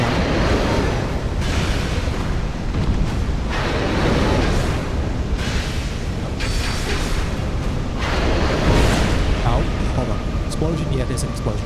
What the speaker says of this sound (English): Yeah, there's an explosion there.